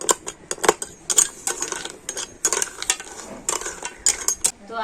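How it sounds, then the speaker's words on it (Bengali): Batasa sugar candy is stirred into water in a frying pan, with a spoon scraping and clinking against the metal in quick, uneven bursts close by, and no voices. "জলের সাথে বাতাসাটাকে ভালো করে গুলে নেব"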